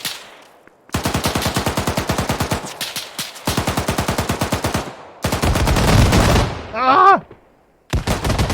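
Automatic gunfire in ARMA 3 rattles out in long rapid bursts separated by short gaps, loud and close, with a voice crying out briefly near the end.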